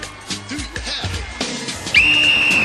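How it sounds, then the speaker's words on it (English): A single loud, sustained whistle blast signals the start of a climb up a silver pipe jungle-gym structure in a robot-fighting competition, cutting in sharply after a stretch of overlapping talk and holding steady to the end. "And with that whistle, the climb up Boulder Canyon begins."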